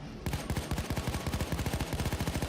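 Rapid automatic gunfire from a weapon in the video game Payday 2, a fast steady burst of loud close shots running continuously for over two seconds with no talk.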